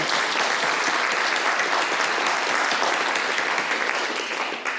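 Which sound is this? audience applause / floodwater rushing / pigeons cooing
audience applause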